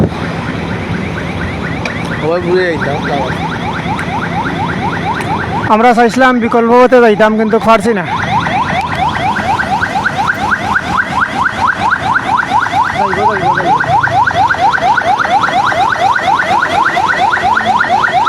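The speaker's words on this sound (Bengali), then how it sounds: "একটা অ্যাম্বুলেন্স একটা অ্যাম্বুলেন্স নিশ্চয়ই অ্যাম্বুলেন্স এগিয়ে আছে" Siren of an ambulance stuck in a traffic jam on the Sylhet–Dhaka highway near Telibazar, wailing steadily through most of the stretch amid traffic noise and horn blasts, with people talking over it.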